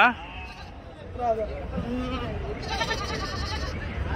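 Goats bleat close by at the Angallu livestock market, a few wavering cries amid the low murmur of a crowd, with people talking nearby.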